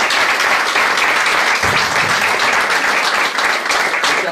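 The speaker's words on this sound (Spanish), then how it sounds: "Demos un aplauso fuerte." Loud, steady applause from a crowd gathered for a funeral procession, a dense continuous wash of clapping that holds evenly throughout without pause.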